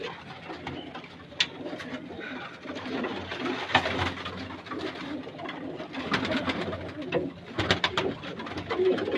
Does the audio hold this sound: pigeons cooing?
yes